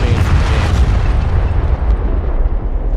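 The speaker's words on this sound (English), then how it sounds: "those are some big explosions" Big explosions in Men of War: Assault Squad 2 during a Cold War battle at the Berlin Wall, loud booming blasts with a deep rumbling tail and dense low roar filling the whole stretch.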